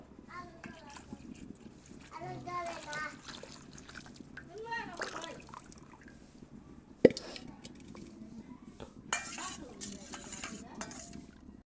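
A spoon stirs jaggery into milk in a metal pot, with scraping swirls, soft splashes and clinks against the pot, one sharp knock partway through, while someone talks quietly.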